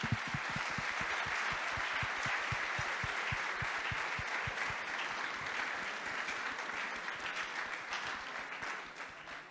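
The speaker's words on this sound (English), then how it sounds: "So big round of applause for them," An audience at a hackathon closing ceremony applauds the organizers, a dense, sustained burst of clapping that holds steady and begins to thin toward the end.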